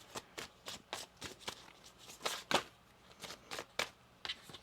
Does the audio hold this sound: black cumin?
no